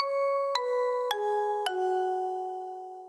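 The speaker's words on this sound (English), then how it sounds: "underneath that layer, I have another bell sound from Nexus that sounds like this." Three bright synthesized bell strikes from a Nexus preset ring out in steady succession, each chiming tone sustaining and overlapping before slowly fading, with no voices.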